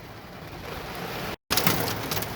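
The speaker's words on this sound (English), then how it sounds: "There's thunder and lightning, rain," Rain falls steadily during a thunderstorm in the Summersville, Missouri area ahead of quarter-sized hail, a broad hiss that cuts out briefly midway and resumes, with no voices.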